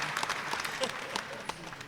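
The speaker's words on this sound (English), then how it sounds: "Let's give all the mayoral candidates a round of applause." An audience at a local election candidates forum claps continuously for a couple of seconds, dense scattered hand claps at moderate distance.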